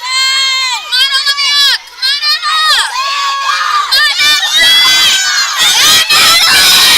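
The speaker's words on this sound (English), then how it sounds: "The crowd is going absolutely wild." Spectators at a summer club swimming championship cheer and shriek wildly, a loud, continuous roar of high children's voices rising and falling throughout.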